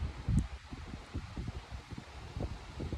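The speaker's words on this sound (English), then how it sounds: "There's a whole lot of wind." Wind gusting through a vegetable garden of tomato plants, with leaves rustling and the microphone buffeted in uneven low rumbling bursts close by, with no talk.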